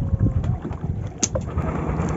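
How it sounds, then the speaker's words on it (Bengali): Motorboat passing on a river in the Sundarbans, a steady low engine-and-water rumble carried close by under wind noise, holding level for the whole stretch. "একটা বোট যাচ্ছে"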